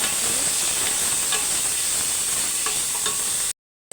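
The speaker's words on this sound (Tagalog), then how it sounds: "Gisa na natin yung ating bawang, ating sibuyas, ating kamatis," Garlic, onion and tomato sauté in a pan with a steady, close sizzle and a few faint scrapes of stirring, then the sound cuts out abruptly near the end.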